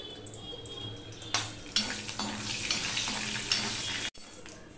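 Whole spices and a torn bay leaf tempering in hot oil with a pinch of salt, a close crackling sizzle with clattering stirs of a utensil against the pan and a brief pause near the end.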